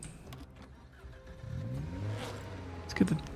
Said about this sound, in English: Let's get the car moved a little closer too for this.